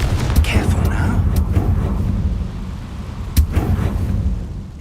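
A Confringo spell cast in the Hogwarts Legacy video game lands as a few booming blasts over a rumbling low background, with one sharp burst standing out near the end while a voice talks.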